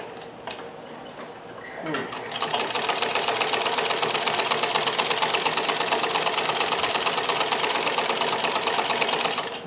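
Close, loud stitching from a Necchi Supernova sewing machine fitted with an industrial straight-stitch buttonholer as it sews a buttonhole: a quiet start with a few clicks, then a fast, even, sustained mechanical rattle.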